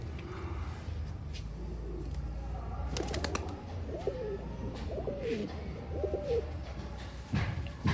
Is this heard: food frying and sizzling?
no